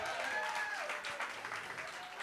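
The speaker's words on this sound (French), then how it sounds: "En tout cas, on peut les applaudir bien fort" A live audience at a café music-contest finale applauds the musicians, fairly faint crowd clapping with some faint voices and a few tonal sounds mixed in.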